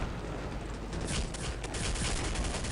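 Loud gunfire rattles in a dense, continuous burst of shots in the video game Counter-Strike: Condition Zero Deleted Scenes.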